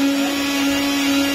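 A kitchen mixer grinder grinds coriander seeds and chillies, giving a loud, steady motor whine with a strong hum that runs unbroken throughout, with no talking.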